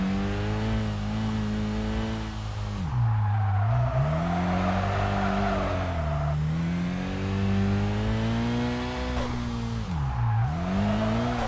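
A car drifting in the video game Kaido Racer 2, engine revving steadily with long tire squeals that dip and rise as the car slides through repeated turns, loud and continuous.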